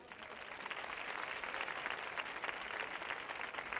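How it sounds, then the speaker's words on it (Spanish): Crowd applause at a fair's coronation ceremony in Casares, a steady wash of clapping from a sizable audience, moderately distant and sustained without a break. "¡Fuerte aplauso!"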